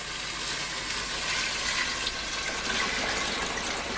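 Hot stock poured into a pan of browned chicken for a Thai chicken noodle soup, a loud steady gushing splash mixed with sizzling heard up close for a few seconds without talk.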